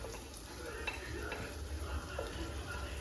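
Onion added to garlic frying in a pan for pansit, a soft steady sizzle with quick spatula scrapes and stirring clicks, close and fairly quiet.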